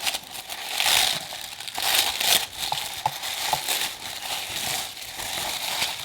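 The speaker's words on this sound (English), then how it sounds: "I'm gonna rip this open." A small cardboard subscription box holding nail polishes is torn open by hand, with bursts of crinkling, tearing packaging close by over several seconds.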